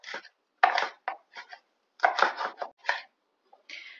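A handful of quick knife chops through small tomatoes against a cutting board, in short irregular bursts separated by brief pauses, close and fairly quiet.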